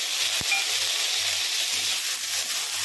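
Chopped tomatoes tossed into a pan of sizzling spices, a steady close hiss and crackle with a faint clunk near the start, no voices.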